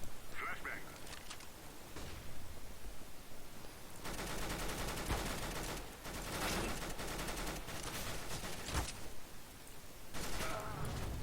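Dense, near-continuous gunfire from Counter-Strike: Global Offensive, with bursts and single shots over a steady loud game backdrop. A voice talks along at points.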